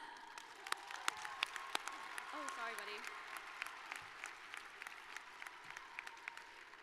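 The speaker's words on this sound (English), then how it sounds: "So let's give a huge round of applause to us." A graduation ceremony crowd claps steadily, a dense spread of sharp hand claps from many people across a large hall, with a brief spoken remark close by partway through.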